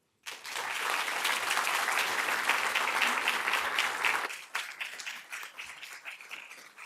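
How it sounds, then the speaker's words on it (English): A large audience applauds after a series of inspirational talks at a reunion event, dense sustained clapping for about four seconds that then thins into scattered claps. "Let's give another round of applause to our speakers."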